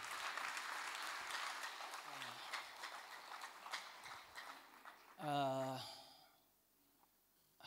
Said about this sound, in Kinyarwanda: Kongere dukomere Imana amashyi.